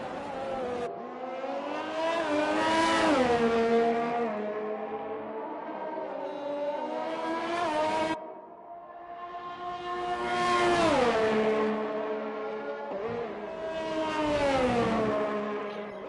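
Race car engine in a racing video game during an outlap at Suzuka in Japan, on intermediate tyres before the Senna-Prost chicane: loud, high-revving engine climbing through gears in repeated surges, with a brief drop around the middle.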